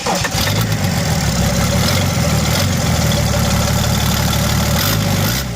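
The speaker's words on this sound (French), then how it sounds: "Donc, c'est un 6 cylindres diesel." Six-cylinder diesel engine with a mechanical injection pump, fitted without intake or exhaust, running steadily at idle with a loud, constant low rumble and mechanical clatter.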